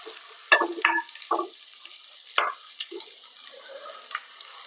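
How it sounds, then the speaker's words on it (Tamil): Garlic, green chilli and shallots sautéing in oil in a clay pot, with scattered bursts of spoon scraping and stirring over a faint, steady sizzle, close by with no talk. "பூண்டு பச்சை மிளகா சின்ன வெங்காயம் பார்த்தீங்கன்னா நல்லா எண்ணெயிலே சுருள சுருள வதக்கி வச்சுட்டு"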